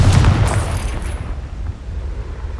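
A Confringo fire spell explosion in Hogwarts Legacy, a loud deep boom right at the start that rumbles and fades over a couple of seconds, with no voices.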